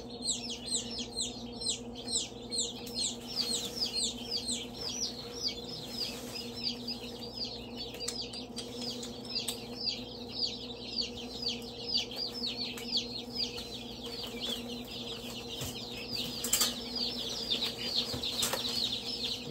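Ducklings in a brooder box keep up dense, rapid high peeping, with soft bursts of wing flapping and scuffling beneath, close by and continuous over a low mechanical hum.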